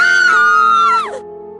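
Screaming sound effect for a ghost story set on Dumas Beach in Surat, where two girls shriek together. A loud, high, sustained cry holds steady, then drops in pitch and breaks off abruptly after about a second.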